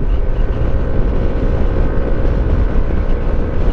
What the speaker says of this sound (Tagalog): Grabe pick up ng motor na to guys.